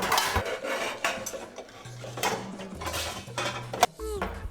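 Pans and cookware clatter and knock as someone rummages through a kitchen cupboard for a cooking pan, giving irregular close metallic clanks and scrapes with a sharp bang near the end.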